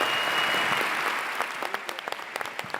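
An audience at a drug legalisation conference applauds, a full burst of clapping that thins out into a few scattered claps as it dies away.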